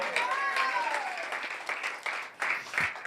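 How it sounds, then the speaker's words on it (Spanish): Applause from a church congregation during a pastor's sermon, a moderate patter of clapping mixed with voices and faint tonal sounds, fluctuating and somewhat distant. "Denle un aplauso fuerte al Señor."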